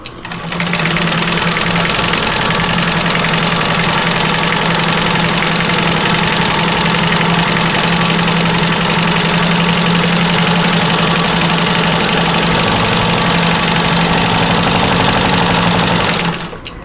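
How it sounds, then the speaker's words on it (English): A 1947 Singer 15-90 vintage sewing machine runs flat out with the foot pedal pressed all the way down, its motor whirring and rattling loudly and steadily on a vibrating vinyl table, uninterrupted for about sixteen seconds. "what I have found works better is to go at full speed on the machine"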